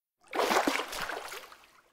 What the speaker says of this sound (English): A splash of water